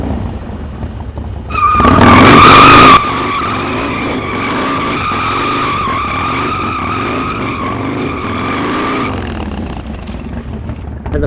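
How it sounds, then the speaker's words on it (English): Harley-Davidson motorcycle with its rear tire breaking traction and sliding in a dirt drift at high RPM; a loud, harsh burst of tire scrub and engine roar erupts near the start, then a steady engine drone continues close by. "get your RPMs real high so that you break traction and that back tire starts to slide"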